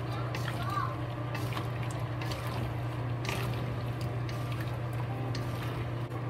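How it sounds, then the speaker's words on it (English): Chicken stew with potatoes, carrots and celery stir-fried in a pan, a faint wet scraping and sizzle with a steady low hum underneath, under quiet talk. "Stir fry it."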